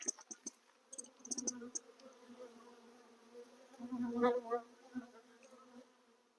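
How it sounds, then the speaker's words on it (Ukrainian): Honey bees flying intensively around a hive at sunset, a steady faint buzzing drone with a few louder passes close by, no talking. "що ви зараз побачите, що інтенсивний літ бджіл"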